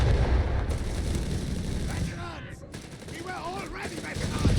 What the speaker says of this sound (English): MP40s slashing through the anti-tank crews that, of course, are defenseless